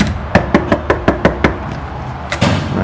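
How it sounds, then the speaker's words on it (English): A series of about seven firm, evenly spaced knocks on a door, then a brief pause and two more knocks, clear and close. "I'm going to leave the house and knock on the door."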